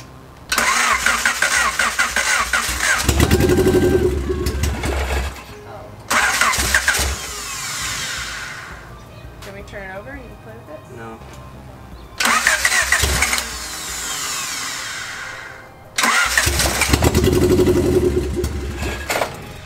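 A Honda CRX demolition derby car cranks repeatedly in four loud bursts, the engine catching and running briefly between pauses, close up with no talk.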